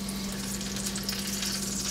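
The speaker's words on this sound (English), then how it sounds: "Just let that sizzle and get a nice crust on there" A rack of lamb searing in hot oil in a pan, giving a loud, steady, close sizzle and crackle with no voices.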